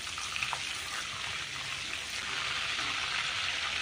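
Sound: cumin seeds sizzling in hot oil

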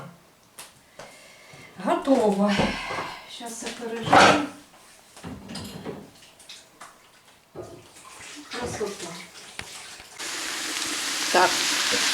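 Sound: meat with onion and carrot frying in a pan

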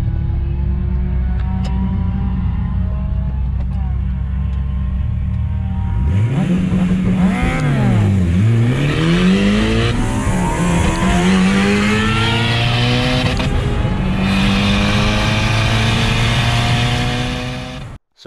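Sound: vehicles racing at high speed on a road

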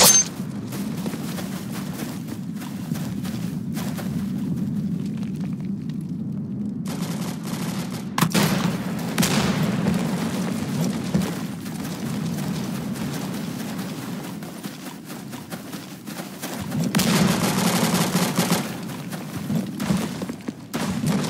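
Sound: gunfire in Roblox Unit 1968: Vietnam video game

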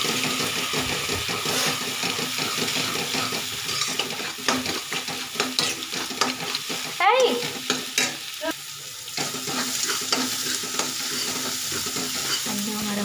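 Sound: egg frying and being stirred in a pan

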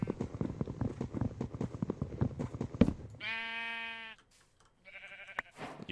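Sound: sheep in the video game Minecraft

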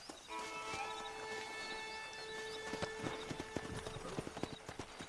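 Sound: horse hooves in a video game

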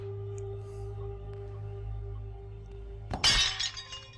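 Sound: shield shattering in a video game

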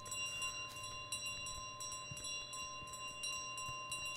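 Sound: bike bell ringing in Untitled Goose Game, a video game

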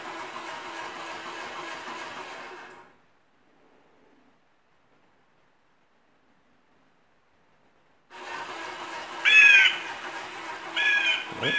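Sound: bird call played from animatronic scarecrow speaker

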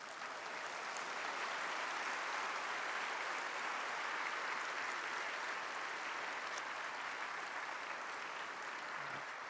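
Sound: audience applause for the Singapore government

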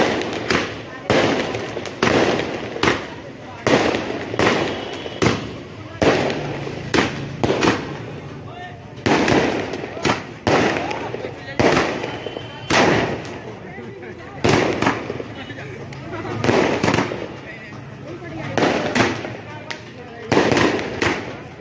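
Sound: firecrackers exploding

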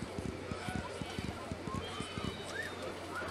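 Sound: horse galloping in the video game Silver Buckle Stables

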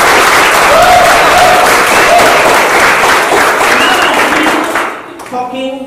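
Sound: audience applause

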